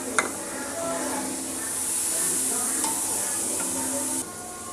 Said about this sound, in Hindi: 1 बड़े साइज़ का टमाटर हम इसके अंदर डाल रहे हैं।